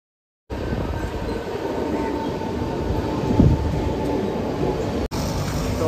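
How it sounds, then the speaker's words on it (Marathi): A Mumbai local train rumbles steadily and loudly at close range, a continuous roar of wheels and carriages that holds for several seconds before cutting off briefly near the end. "फाइनली मेरा ट्रेन आ गया है"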